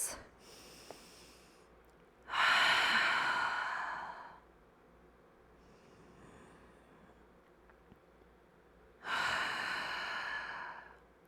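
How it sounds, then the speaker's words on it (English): Loud, breathy exhales during a gentle stress-relief yoga session, two big releasing breaths separated by quieter breathing, each sighing out for about two seconds, close and alone with no talk. "Big releasing breaths."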